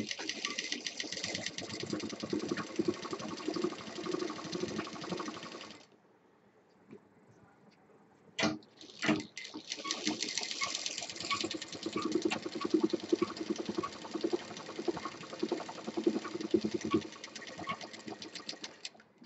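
A sewing machine runs in long steady bursts, stitching a zip onto a 4-inch fabric strip for a triple-zip shoulder bag. It stops for a short pause broken by a couple of sharp clicks, then stitches on loud and close.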